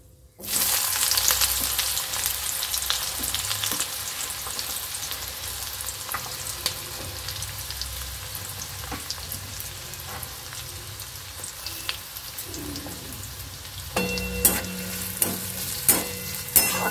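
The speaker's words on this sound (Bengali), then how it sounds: "পেঁয়াজের কাঁচা গন্ধটা যতক্ষণ না যাবে ততক্ষণ এটাকে নেড়ে চেড়ে আমি ভেজে নেব।" Chopped onions frying in oil for a chicken kofta curry, a steady close sizzle throughout, with a utensil stirring and scraping the pan in several distinct knocks toward the end.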